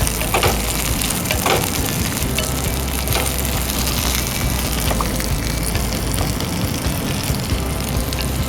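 Sliced peppers frying in a pan while being stirred: a steady, loud, close sizzle with faint scraping as they are moved, no talking.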